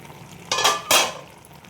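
A lid is set over a cooking pot of mixed vegetable curry, making two quick close clattering knocks about half a second apart, then a fading ring over a quiet background.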